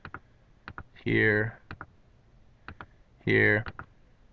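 Sharp, dry clicks of a computer mouse come in small bursts close to the mic during a gaming league bracket session, with a voice speaking briefly between them.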